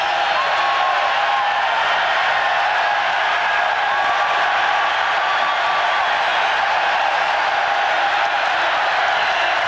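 A steady, loud roar of a packed football stadium crowd fills the air at Texas A&M's home game against Houston in 1991, a constant wash of distant voices without distinct cheers.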